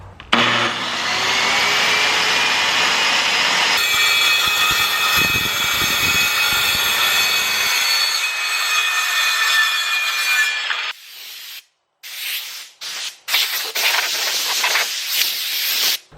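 A power saw cuts through wood set about three quarters of an inch deep for a desk build, a loud continuous whining rasp for about eleven seconds that then stops and gives way to intermittent hissing bursts like a compressed-air spray.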